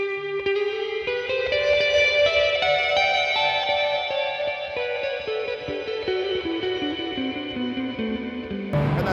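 A GameChanger MOD series pedal effect darkens a sustained, reverb-washed tone, its bright shimmering layers gradually dulling under a pulsing rhythm until a sudden cut at the end.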